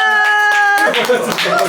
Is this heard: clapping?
yes